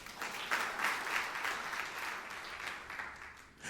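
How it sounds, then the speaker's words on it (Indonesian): Church congregation applauding during a sermon, a steady wash of clapping hands that holds for several seconds, moderately distant and filling the room without any voices on top. "Ada yang tepuk tangan, saudara."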